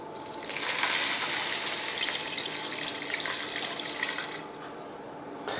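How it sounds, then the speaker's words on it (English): Water poured from a mug into a pot of rice for Pakistani onion rice, a steady close splashing gush that runs for about four seconds, then tapers into a brief trickle. "So here's our water."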